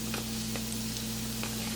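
Jamaican whole wheat dumplings deep frying in oil, giving a steady continuous sizzle with faint crackling pops and a low constant hum underneath, close and even throughout.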